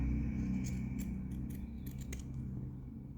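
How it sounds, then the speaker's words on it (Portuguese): Scissors snip repeatedly as they trim excess fabric from a sewn doll's sock, giving a series of short, sharp close-up cuts over a steady low room hum, with no voices. "aí eu venho com a tesoura de escalope ou com a tesoura comum mesmo e tiro o excesso"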